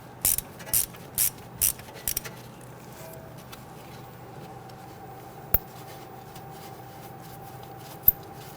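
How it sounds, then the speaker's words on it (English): A 1/4-inch ratchet loosens an 8mm bolt on the rear suspension of a 2010-2019 Ford Taurus, giving five quick, close bursts of ratcheting clicks in the opening two seconds, then quiet with two sharp isolated clicks later. "this is just our 1/4-inch ratchet. Okay, loosen it and remove this bolt."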